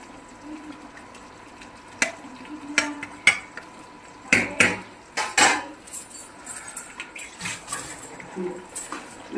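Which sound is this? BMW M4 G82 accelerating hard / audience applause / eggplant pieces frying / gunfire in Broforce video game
eggplant pieces frying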